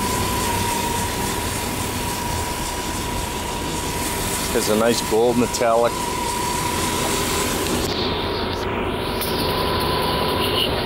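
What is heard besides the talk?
Mercedes 3.8 liter V8 engine running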